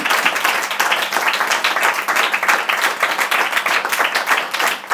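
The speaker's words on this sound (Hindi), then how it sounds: "जोरदार तालियां बजाइए।" A church congregation claps loudly and steadily, a dense, continuous crowd of hands sustained without break and no one speaking over it.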